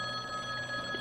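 A payphone rings with a continuous electronic trill, steady and fairly close, with no voices.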